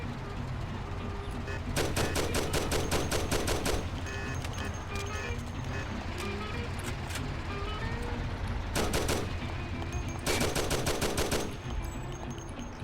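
Automatic weapon fire in the video game Mafia Classic with a community modpack: rapid rattling bursts of shots, a long burst, then a short one and another longer one, over a constant loud rumbling background.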